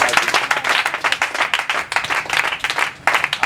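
A church congregation claps in brisk, dense applause, loud and close, swelling and dipping in waves with no talk.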